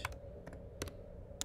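Close, quiet typing on a computer keyboard: four short clicky bursts of keystrokes at uneven intervals over a soft background hum, with no talk.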